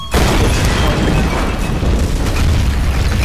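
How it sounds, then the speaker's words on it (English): An exploding barrel blowing up in a video game: one loud, close blast that opens suddenly and swells into a sustained, rumbling roar lasting several seconds. "Hey, that looks like an exploding barrel."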